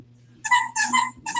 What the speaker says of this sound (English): Someone having a little bath there with some squeaky ducks?